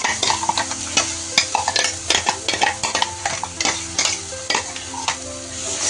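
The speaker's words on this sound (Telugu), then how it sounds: "నేను ఒక 2 నిమిషాలు ఫ్రై చేసి ఉడికించాలి" Tomato puree frying in a pan with a little oil for aloo dum curry, stirred steadily so the spoon scrapes and clinks against the pan over a continuous close sizzle, with no one speaking.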